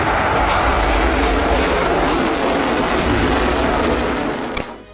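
A fighter jet roars loud and close as a continuous broadband engine rush, then fades sharply near the end with a brief crackle.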